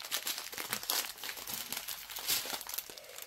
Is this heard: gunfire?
no